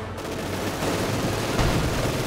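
An MG42 machine gun in Company of Heroes 2 fires long, dense bursts amid continuous battlefield rumble, loud and unbroken across the moment.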